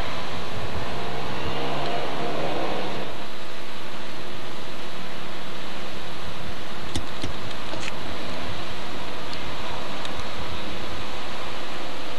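A 1985 Saab 9000 driving at over 100 mph, its engine and road roar forming a steady, dense broadband rush throughout, with a louder low-end swell early on and a few faint high ticks later.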